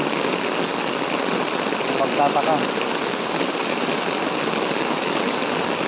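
Heavy rain hisses steadily alongside rushing floodwater in Palaris, Philippines, a dense, unbroken wash of sound, with a voice speaking briefly over it.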